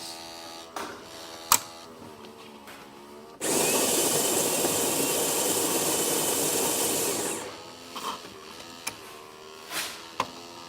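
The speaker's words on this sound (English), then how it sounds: "We'll go ahead and pour a shot." A few clicks, then a loud, steady buzzing pump drone for about four seconds as a Starbucks espresso machine pulls a shot, cutting off, followed by scattered clicks and small knocks.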